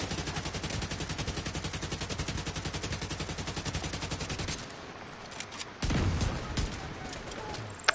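Rapid automatic gunfire from The Division 2 video game, a long sustained burst of rhythmic shots that cuts off, followed by a pause and a few scattered shots over low ambient noise.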